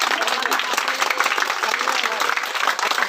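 Steady, loud applause from a crowd at a yoga convention, many hands clapping together continuously and dipping briefly near the end, with a voice faintly mixed in.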